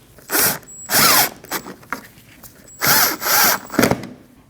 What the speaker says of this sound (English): push straight in, and install your 2 7mm bolts